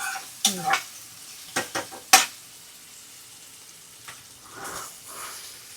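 A few sharp scrapes and clinks of a spatula stirring ingredients roasting in a pan for dal khichdi, spaced apart with a faint sizzle between them and quiet gaps after.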